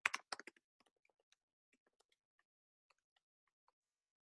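Quiet keyboard typing: a quick cluster of keystrokes at first, then sparse, scattered key clicks spaced out over several seconds, faint and close.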